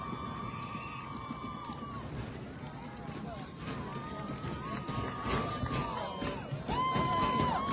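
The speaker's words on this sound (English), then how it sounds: "The crowd giving their love to the Berean Academy Eagles" Crowd noise from the stands at a high school football game, Berean Academy Eagles playing at home in Sierra Vista, a steady broad roar with whistles and shouts rising toward the end, under a voice.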